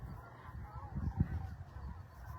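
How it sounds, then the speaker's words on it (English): Canada geese honk across a pond, a few faint, distant calls clustering in the middle, with the soft wash of the open outdoor setting behind them. "Lots of Canada geese coming in too."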